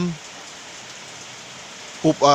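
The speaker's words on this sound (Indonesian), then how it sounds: "di rumah teman-teman itu hujan seperti sekarang ini ya, di tempat kami hujan" Steady rain falls outdoors during the rainy season, a continuous broadband hiss of drops on surfaces, close and even, with a voice speaking briefly at the start and again near the end.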